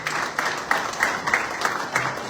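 An audience at an embassy event for Zimbabwe in Namibia claps in rhythmic, fairly loud applause with evenly spaced beats for the whole stretch.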